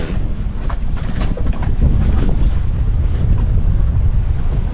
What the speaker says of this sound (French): On a un petit vent à 10 nœuds, ça c'est une joke.